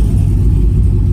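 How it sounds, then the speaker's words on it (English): An LQ4-swapped Pontiac Firebird Trans Am gives off a steady, heavy low engine rumble on a test drive. It is loud and close throughout this brief moment. "We're taking it on a test drive right here."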